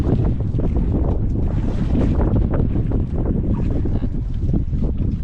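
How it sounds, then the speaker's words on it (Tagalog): Strong wind roars steadily at sea, buffeting the microphone in loud, continuous gusts, with a rushing, churning wash beneath. "Malakas ang hangin"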